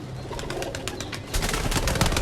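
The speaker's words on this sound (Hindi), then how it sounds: "सबसे पहले मैं आपको इन टैडी कबूतरों का शौक कराता हूँ।" Teddy pigeons cooing and fluttering nearby, soft repeated coos over a bustle of wingbeats and rustling that grows louder partway through.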